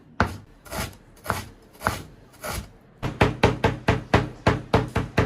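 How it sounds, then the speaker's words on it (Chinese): A kitchen knife minces ginger on a cutting board for a spicy poached-pork dish, first a few slower separate chops, then a quick steady run of about a dozen sharp knocks, close and alone. "姜切成末，先切丝，再切末。"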